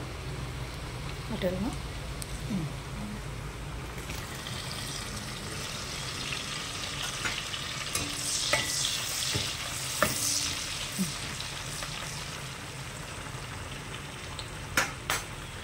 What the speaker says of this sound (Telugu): ఇదిగోండి కొంచెం వెల్లుల్లి వేగిన తర్వాత పచ్చిమిర్చి వేసుకున్నాము.